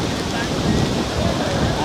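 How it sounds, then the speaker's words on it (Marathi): Savatkada waterfall running with a low flow of water, giving a steady, even broadband rush mixed with wind buffeting across the microphone, continuous and unchanging throughout. "हा माझ्या पाठीवर दिसतोय तो सवतकडा आहे, वॉटरफॉल आहे."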